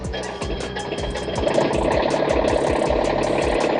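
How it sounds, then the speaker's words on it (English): The small cold diesel engine of a Bobcat MT100 mini track loader idles steadily nearby with a rough, rhythmic knocking clatter that grows slightly louder and then holds even. "Listen to that little engine purr"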